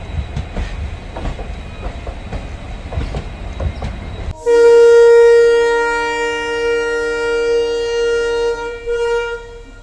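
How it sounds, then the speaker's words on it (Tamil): A Chamarajanagar to Mysuru passenger train rumbles along with rhythmic clacking, then a loud, sustained horn blares close by and holds for several seconds. "ட்ரெயின் உள்ளே போயிட்டு இருக்கு பார்த்தீங்களா"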